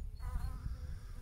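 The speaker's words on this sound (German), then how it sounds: "Da sind hier überall die Bienen." Bees buzz around an old pot outdoors, a steady, close insect drone with wing hum that holds throughout, with no talking.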